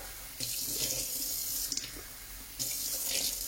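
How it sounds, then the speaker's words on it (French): Water runs from a tap into a sink while a drain is being cleaned, a steady close hiss and splash that swells briefly as the flow changes. "je vais faire couler, hop, de l'eau"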